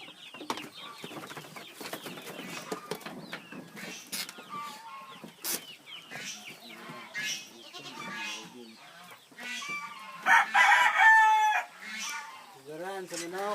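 A rooster crows loudly at a rural farmyard in Bukidnon, following a mix of softer clucks, bleats and scattered background noises.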